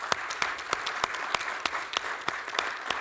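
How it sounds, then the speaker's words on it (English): Audience applause at the close of a panel event on the internet of toys and artificial intelligence: a steady wash of clapping, with sharper individual claps standing out at a regular beat all the way through. "Please give these people a big round of applause."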